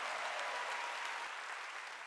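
A Korean church congregation at a Wednesday service applauds in a dense, unbroken roar of clapping that holds at an even, fairly soft level with no speech over it.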